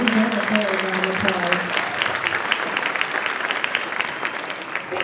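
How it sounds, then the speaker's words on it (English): An audience at an upper elementary school band's winter concert gives a round of applause, steady clapping that fills the room while a voice speaks briefly at the start. "Yes, they deserve a full round of"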